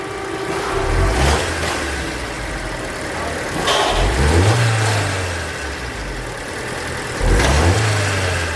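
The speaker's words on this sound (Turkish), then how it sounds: "Şu an araç gazda çıt çıt çıt sesi duyuyorsunuz." A Fiat Palio 1.2 engine with an overheating fault idles and is revved three times, each rise and fall loud and close, with a faint ticking and clicking audible at the peaks.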